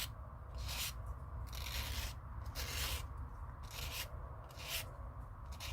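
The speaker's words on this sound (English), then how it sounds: "Then I will go to the fine grit." Fine-grit sanding of the edges of a handmade jewelry piece, a series of about six short rhythmic rubbing strokes, close and clear over a quiet low hum.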